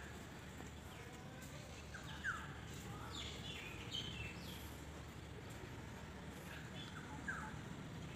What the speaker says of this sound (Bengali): পাখির কলকাকলি